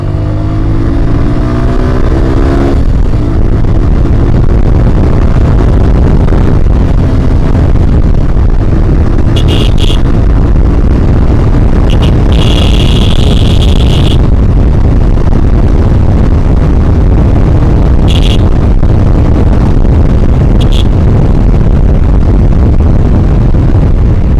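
A Suzuki Gixxer Monotone 155cc motorcycle engine is revved hard, giving a loud, continuous roar that holds steady throughout with slight surges.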